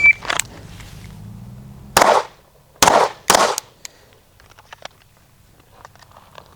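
Several sharp, loud gunshots from a Staccato P pistol on a shooting range, three heavy reports spaced about a second apart after an opening shot, with faint clicks and handling noise between them.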